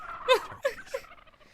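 Turkey gobbling from old film footage: three short, bright gobble bursts in quick succession at moderate level, with no talk over them.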